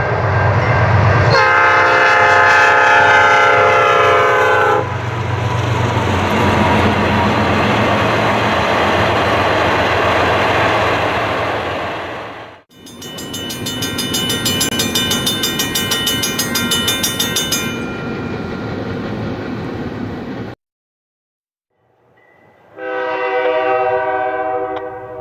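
An iron ore freight train rumbles past in Michigan with loud blasts of its horn, first long sustained notes, then another burst, and finally a distant horn after a brief silence.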